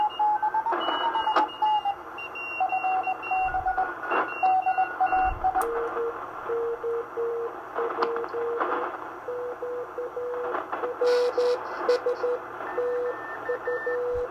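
Morse code CW tones received on a Vietnam War era AN/PRC-74 military radio tuned near 7 MHz, steady keyed beeps at several pitches over a hiss of band noise, with no talk.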